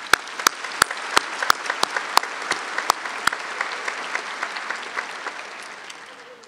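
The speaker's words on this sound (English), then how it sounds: "Please join me in a round of applause for the faculty members" Audience applause for the faculty at an LSU College of Business graduation ceremony in the PMAC: sustained clapping from a large crowd, with sharp nearby claps standing out, gradually fading toward the end.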